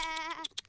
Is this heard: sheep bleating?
yes